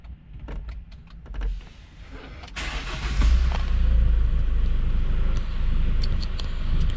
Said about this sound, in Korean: 자, 시동을 한번 걸고요.